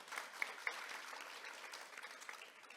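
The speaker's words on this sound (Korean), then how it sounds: "발제해 주신 장 위원님께 다시 한번 박수 부탁드리겠습니다." An audience at a regional policy forum claps together, a soft, dense patter of applause with a few sharper claps at the start, faint and steady for a few seconds, with no talking.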